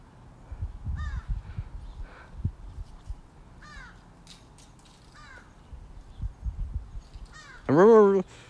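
Crows cawing from a tree line outdoors, several harsh calls spaced a few seconds apart at a moderate distance, ending with one loud close caw, with faint low rumbles between.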